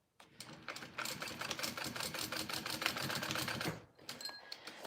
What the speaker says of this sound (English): I'm gonna do another little line of stitching where that connector is just to give it